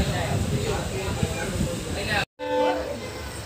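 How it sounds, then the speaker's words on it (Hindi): A Jaunpur–Raebareli Intercity train rushes through Badshahpur station at speed with a loud roaring rumble of wheels and wagons, then a sustained horn blast sounds close by, with someone talking over it. "देखिए आप ट्रेन धूल उड़ाते हुए एकदम जा रही है स्पीड में।"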